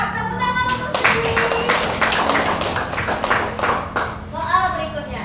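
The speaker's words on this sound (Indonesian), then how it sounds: "Tepuk tangan untuk Suci." Classroom clapping for a student: a group of pupils claps in quick, uneven bursts, close by and fairly loud, with voices talking and calling out over and between the claps.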